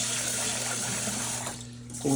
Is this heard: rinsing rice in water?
yes